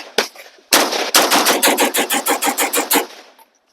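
A BRN-180 rifle firing one shot, a pause, another shot, then a fast string of about eleven evenly spaced, loud, close shots, each sharp crack followed by a brief ring-out, with no talking.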